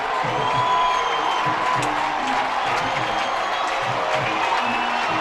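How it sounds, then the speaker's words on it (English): A high school football crowd at Baylor vs. McCallie roars from the stands, a dense, steady wash of distant cheering and shouting that holds level throughout. "Boy, the crowd is on their feet."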